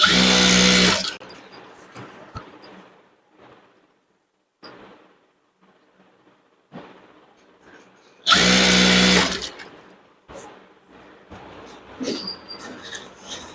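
Electric sewing machine stitching a skirt, two loud sustained whirring runs at the start and again near the middle, separated by quieter handling and fabric rustles.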